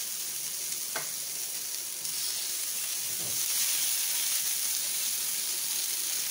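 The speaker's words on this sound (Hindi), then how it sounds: "इनको सबको मैंने शेलो फ्राई करना है" Gola kebabs shallow frying in a few tablespoons of oil in a frying pan give a steady, close sizzle and hiss throughout, growing slightly louder midway, with a couple of faint clicks and no talking.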